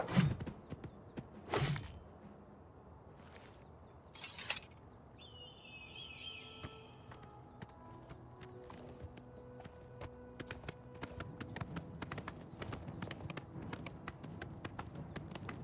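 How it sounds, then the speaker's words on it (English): Hooves of a horse in a video game clip-clop along at a walking pace amid a few sharp thumps and faint bird calls, the steps fairly quiet and close. "we got a wolf attacking my horse."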